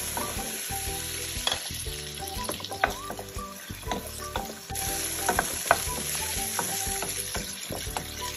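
Garlic sautéing in a pan for spaghetti with mussels: a steady close sizzle and frying hiss with stirring scrapes, continuous throughout with no talking.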